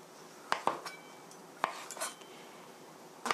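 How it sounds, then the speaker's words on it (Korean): A knife thinly slices mushrooms on a cutting board, producing a few sharp, isolated chops spaced irregularly against a quiet kitchen background. "오늘은 버섯을 얇게 썰어 주세요"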